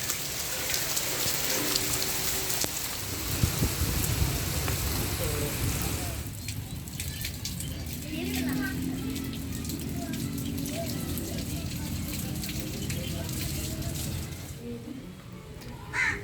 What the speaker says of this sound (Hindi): काफ़ी तेज़ बारिश स्टार्ट हो गई है